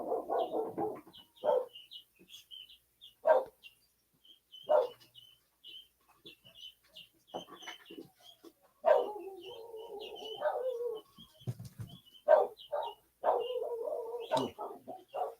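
Dogs bark at coyotes outdoors at night, scattered sharp barks in short bursts with pauses, moderately distant, mixed with faint higher calls and cooing in the background.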